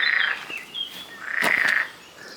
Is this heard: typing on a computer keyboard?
no